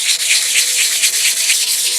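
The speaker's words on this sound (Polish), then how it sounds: "Szlifujemy z obu stron" Coarse sandpaper rubs back and forth across a dried wood slice, a loud, close, rapid scratching rasp repeating in quick even strokes with no speech.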